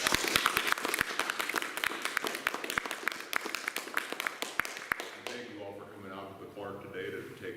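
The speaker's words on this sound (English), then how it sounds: "Folks, let's give them one more big round of applause." An audience gives a round of applause after a Saturday speaker series presentation, dense clapping for about five seconds that stops abruptly, then a person starts talking.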